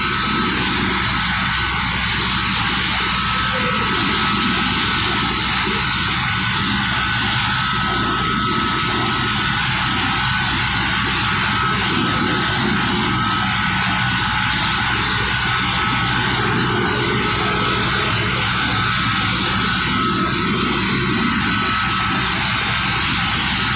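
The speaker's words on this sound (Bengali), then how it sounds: "কত বড় বড় মোটর এবং পেনিয়াম চলতেছে দেখুন।" Large motors run inside the Darsana sugar mill of Carew & Co in Chuadanga, a loud, unbroken industrial drone and hum that stays constant throughout, with no voices.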